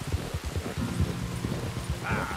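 Rain falls in a video game scene as a steady, fairly loud hiss with low rumbling tones beneath it throughout.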